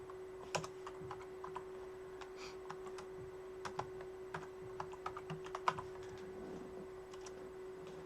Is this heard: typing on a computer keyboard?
yes